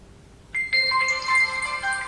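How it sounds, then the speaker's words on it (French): A Lenovo A916 Android smartphone plays its startup chime, a bright electronic melody of layered tones that enters after a short quiet lead-in and rings out clearly and close, with no talking. "Je suis pas vraiment fan de ce genre de bruit de démarrage"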